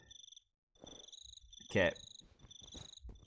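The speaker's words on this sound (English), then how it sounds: "That cricket is so annoying." Repeated high cricket chirps from Minecraft ambience run steadily through the stretch, with a player speaking briefly over them.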